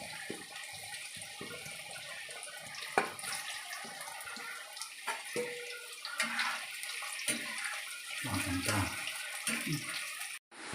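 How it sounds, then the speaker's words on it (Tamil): Pieces of vegetarian mutton-style thokku sizzle while frying in oil, a continuous hiss with scattered crackles and pops, close and fairly steady, with a brief louder burst near the end. "இப்போ இது எண்ணெயில் போட்டு எடுக்கிறேன்."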